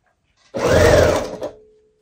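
A sewing machine stitches quilted star blocks in one steady, fairly loud burst of about a second, then slows and stops, with no other sound around it.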